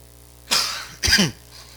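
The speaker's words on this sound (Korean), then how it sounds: "다 낫다 그랬는데도 올라오면 기침을 해요." A preacher gives two sharp coughs during a church sermon, close to the listener, about half a second apart, the second slightly longer and throatier, with quiet between them.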